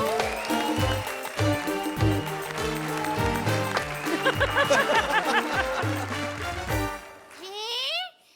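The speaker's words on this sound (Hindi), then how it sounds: "तो जोरदार तालियों से स्वागत कीजिए खांसी की सुनामी अर्चना पूरन सिंह का" Studio audience applauding and cheering to welcome comedian Archana Puran Singh onto a comedy show stage, loud and sustained with music, tapering off near the end as a voice calls out.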